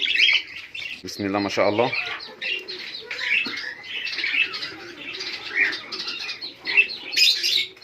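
Budgie chicks and parent birds in a nest box, soft twittering and chirps running throughout at close range, with a short burst of louder squawking calls early on and a man murmuring over them.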